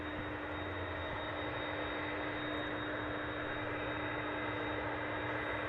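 Jet airliner departing at DFW International Airport, a steady distant engine roar with broadband rumble and a constant hum, holding level for several seconds with no voices.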